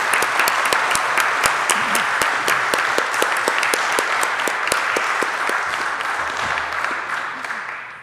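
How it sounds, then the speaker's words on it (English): An audience at a church's annual general meeting applauds, a steady round of many hands clapping that stays fairly loud throughout and tapers off at the very end. "let's give a round of applause to Stu."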